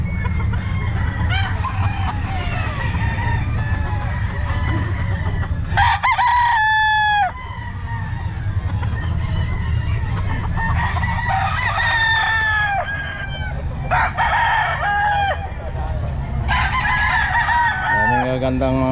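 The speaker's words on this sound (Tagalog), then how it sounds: "Gandang mga manok mga kabosing." Chickens and roosters crow and cluck at a pet market in Bocaue, with several repeated crows rising over a dense, steady murmur of crowd noise and faint talk.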